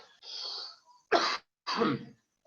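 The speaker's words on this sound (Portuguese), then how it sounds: "Eu vou de vez em quando tossir um pouco, que tá minha garganta irritada" A man with an irritated throat during an online accounting lecture clears his throat and then gives two short, loud coughs, close to the microphone with brief silences between them.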